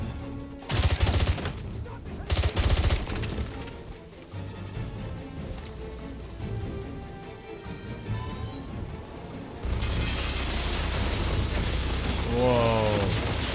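Rapid bursts of loud gunfire from a better gun in a video game, with sharp crackling volleys early on and a dense sustained barrage in the last few seconds over a busy game soundscape.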